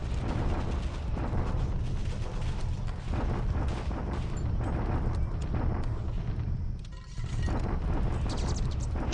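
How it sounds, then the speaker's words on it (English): Allied artillery bombardment of Clark Field in a World War II strategy game, a dense, continuous barrage of booming explosions and rumbling gunfire with a brief lull near the end before the roar resumes. "Let's see how our Allied bombardment does here at Clark."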